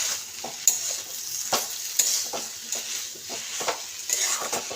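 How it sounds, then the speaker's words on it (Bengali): Green tomato chochri fries in a pan while a spoon stirs and scrapes it, with irregular sharp scraping strokes over a soft sizzle, close by and without speech. "তো এবার এটাকে ভালো করে কষে নিতে হবে।"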